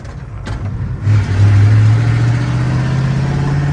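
Engine of a 1970 Ford truck with manual steering running while driving on a mountain road, a loud close low-pitched drone that rises in pitch as it accelerates and then holds a steady hum.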